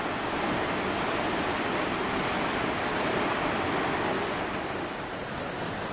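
The Oneta waterfalls in Villayón, western Asturias, roar as a dense, constant rush of falling water, loud and close with no voices.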